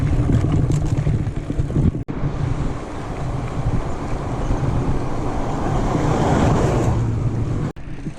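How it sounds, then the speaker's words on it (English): Floodwater from the Macquarie River gushing steadily along the Bridle Track on a gravel bike ride, a loud continuous rushing wash mixed with wind buffeting the microphone, with no voices. "still quite a lot of water gushing down"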